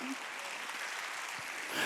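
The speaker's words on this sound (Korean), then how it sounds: "박수야." Church congregation clapping during a Korean Wednesday worship service, a steady wash of many hands applauding at a fairly low level, continuous and uniform with a slight swell at the end.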